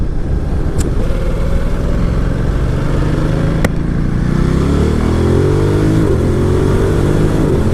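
A 2018 Ducati Multistrada 1260S motorcycle accelerating hard on a road test ride, its engine note climbing through rising revs with brief dips at gear changes, loud and close over strong wind rush.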